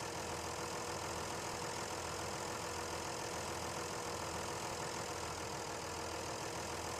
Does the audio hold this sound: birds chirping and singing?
no